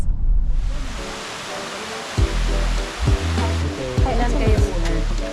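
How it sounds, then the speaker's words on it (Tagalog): Tumalog Falls in Oslob, Cebu pours with a loud, steady broadband rush of falling water, close and continuous, while someone speaks over it. "And this is Tumalog Falls."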